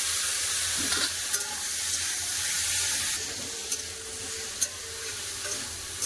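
Steady sizzling of pumpkin and bitter gourd frying in a pan, with occasional clinks and scrapes of a utensil stirring; no voices.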